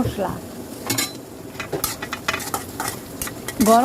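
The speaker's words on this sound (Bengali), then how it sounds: "গরম মশলাটা যেহেতু একটু শক্ত তাই আগেই দিয়ে দিলাম, যাতে গরম মশলাটা ভাজা হয় সুন্দর করে" Garam masala and onion fry in oil in a pan while a spatula stirs and scrapes, with soft sizzling under repeated clinks and scrapes of metal against the pan, close by.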